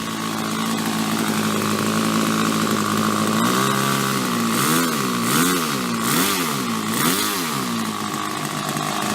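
A Nexstar Select nitro R/C car engine runs loud and close with a buzzy, raspy two-stroke drone that rises and falls in several quick revving swells before settling back.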